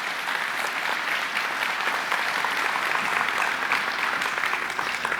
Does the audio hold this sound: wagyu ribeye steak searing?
no